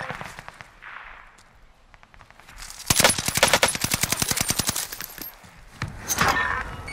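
Gunfire in the video game Call of Duty: Modern Warfare: scattered sharp shots give way to a loud rapid burst of automatic fire, then a few more cracks, close and without talk.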